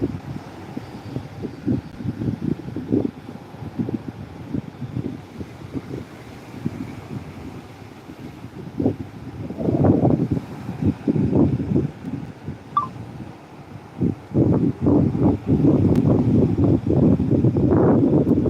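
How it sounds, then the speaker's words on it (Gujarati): Strong seaside wind in Diu buffets the microphone in gusty low rumbles that swell and fade, growing heavier toward the end. "પવન એક નંબર આવે છે"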